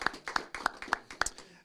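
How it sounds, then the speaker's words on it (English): A round of audience applause at a city council meeting, honoring the International Mother Language Committee; scattered individual claps rise and fall in uneven bursts, fairly quiet and a little distant, with no talking. "One more big round of applause, please, for the International Mother Language Committee"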